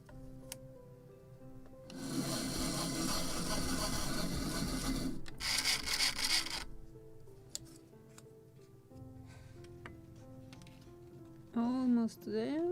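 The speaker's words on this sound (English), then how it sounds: "A little more of sanding." Sandpaper rubs along the wooden hull of a model of the 1776 gunboat Philadelphia, a close rasping burst lasting a few seconds, then a shorter second pass, with quiet gaps and a brief voice near the end.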